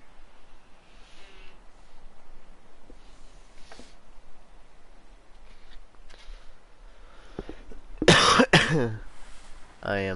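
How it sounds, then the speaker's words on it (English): Coughing by a player during a Limbo playthrough on PS4, a short burst of loud harsh coughs and throat clearing near the end after quieter faint sounds. "I am sorry for coughing."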